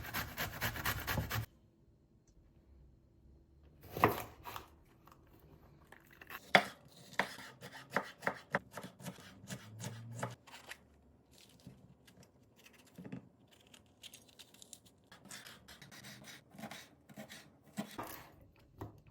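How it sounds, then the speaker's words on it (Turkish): Small potato and zucchini being grated by hand, irregular rasping strokes and scattered taps against a grater and bowl, close but faint, with quiet pauses between bursts. "Bir küçük boy patates rendeliyoruz. Bir küçük kabak rendeleyeceğim."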